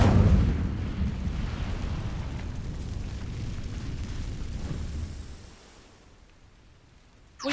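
Incendio fire spell cast in the Hogwarts Legacy video game, a loud roaring whoosh and rumbling burst that sustains for several seconds before fading away, with no talk over it.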